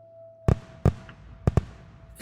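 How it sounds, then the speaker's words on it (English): Fireworks in a video game pop in four or five sharp, loud bursts at uneven intervals over a faint steady tone. "Fireworks, go."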